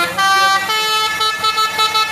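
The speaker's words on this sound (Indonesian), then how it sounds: "ada tololetnya rupanya" A truck's telolet horn plays a loud, melodic run of tonal blasts with shifting pitches on a hill climb, heard over the rumbling engine of a truck towing a trailer.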